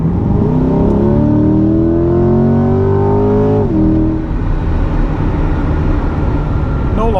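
A Chevrolet C8 Corvette, mid-engine with 495 horsepower and a performance exhaust, accelerates hard with a loud rising engine note through gear changes, then settles into a steady cruising drone.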